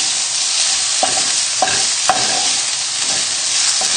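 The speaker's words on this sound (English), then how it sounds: "Just keep moving everything around in the pan" Bacon sizzling loudly in a pan on high heat, with a spoon scraping and stirring in several distinct strokes across the continuous frying hiss.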